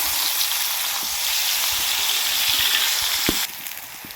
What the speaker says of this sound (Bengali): এবার এর মধ্যে আলু আর পটলগুলো ভেজে নেব।